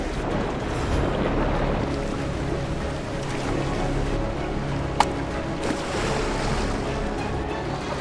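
Steady, broadband rushing of an Alaskan river fills the whole stretch, a continuous roar with one brief sharp click partway through.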